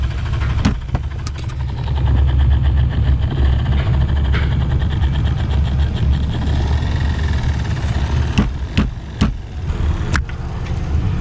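A car's heater blower motor runs after its connector is wiggled, giving a loud, steady whirring drone with a few sharp clicks and ticks near the start and end.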